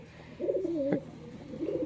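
Young pigeons give a short, close, wavering coo, followed by a quieter second call near the end.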